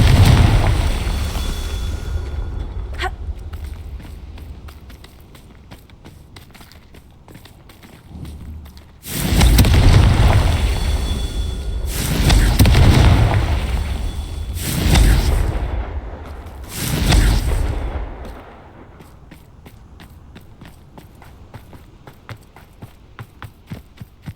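Several deep, booming fire-spell explosions from Hogwarts Legacy roll out in sequence, heavy blasts a few seconds apart after an opening boom, followed by quieter crackling.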